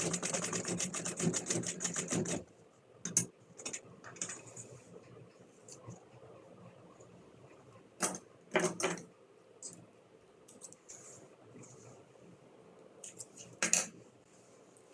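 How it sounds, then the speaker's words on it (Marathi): A domestic sewing machine runs a burst of stitching along the edge of a denim patch on a bag made from an old jeans skirt, then falls quiet with a few short clicks and brief stitch runs later on. "पॅचला अगदी साईडनं आपण शिलाई घेणार आहे, साईडला एकदम कॉर्नरमध्ये."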